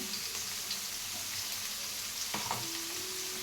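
Onion and bell pepper fry with a spoonful of ginger garlic paste in a pan for bread gobi, a dense, even sizzle close up, with a light scrape or stir near the end and no talking.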